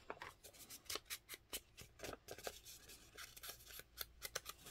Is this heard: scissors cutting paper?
yes